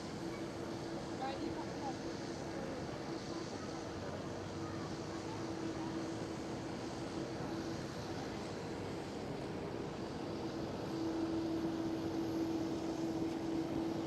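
KLM Boeing 787-10 touching down at Schiphol Amsterdam, a low, distant, steady jet rumble with a sustained tonal hum, under intermittent talk.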